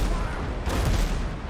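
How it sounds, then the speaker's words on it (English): Ship cannons fire a point-blank broadside in the pirate naval game Windrose, a dense rumbling barrage of booms blending into a continuous low roar across the whole moment, loud and close. "Another point-blank broadside."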